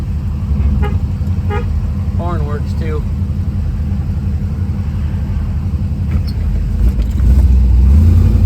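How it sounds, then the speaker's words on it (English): A 1957 Chevrolet two-door hardtop's horn gives several short toots in quick succession over a steady idling engine rumble, with someone talking. "Horn works too."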